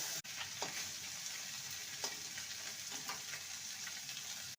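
Morla fish fry in hot oil with a steady, close sizzle and crackle, quiet but continuous, with a few faint clicks of handling and no voices.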